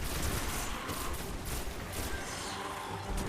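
Dense, continuous gunfire in the video game Destiny, a rapid barrage of shots while fighting a knight enemy, loud and sustained with no pauses across the moment.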